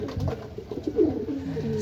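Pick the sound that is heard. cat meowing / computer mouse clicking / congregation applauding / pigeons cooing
pigeons cooing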